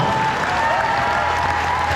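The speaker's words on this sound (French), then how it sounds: "devant le public qui vous applaudit évidemment" Festival audience at the Pom's d'Or international festival applauding steadily throughout, a dense wash of clapping with a faint tonal hum running underneath.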